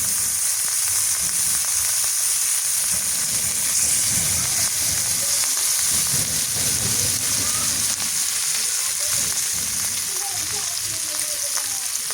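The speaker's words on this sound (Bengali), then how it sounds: "মাছটা ভাজা হয়ে গেল" Rohu fish frying in oil on a clay stove gives a steady, loud sizzle with crackling spits throughout, and no one speaks over it.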